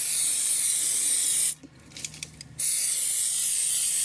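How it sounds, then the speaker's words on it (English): A can of dry chain cleaner sprays onto a motorcycle chain in a loud, continuous, close hiss, broken by one brief pause of about a second. "I'll just spray it on the whole of the chain."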